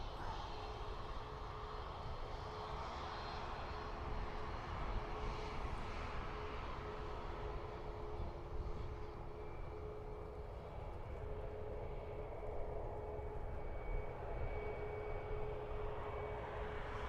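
A Ryanair airliner takes off at Dublin Airport, its jet engines a steady, broad roar at some distance that holds for the whole stretch with a faint whine above it.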